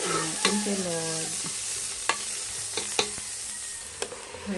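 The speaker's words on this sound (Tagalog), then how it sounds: "Gigisa muna natin yung ating kalabasa bago natin lagyan ng sabaw." Squash (kalabasa) sautés in a pan, giving a steady close sizzle with a few sharp utensil clinks and scrapes against the pan, and no voices.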